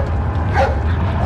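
In the GameCube edition of Resident Evil 4, a dog barks and yips sharply, one loud close bark rising briefly over a low rumbling game backdrop.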